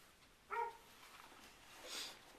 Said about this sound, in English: I hear my dog barking again.